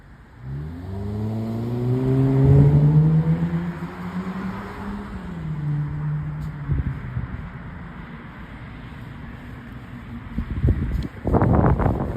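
A car drives past close by during a street protest in New Haven, its engine note rising and then fading into wind noise, with a short burst of rustling near the end.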